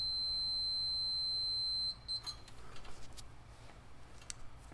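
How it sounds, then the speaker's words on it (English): A continuity tester on a sealed beam headlight gives a steady high electronic beep for about two seconds, then cuts off, leaving a few faint clicks over low background hum. "we'll test continuity on this one here"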